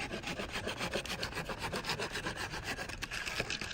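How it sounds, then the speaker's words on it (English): A hand pruning saw rasps back and forth through a tree branch near the branch collar, its quick, steady strokes loud, close and continuous without a break. "So we'll just take our pruning saw"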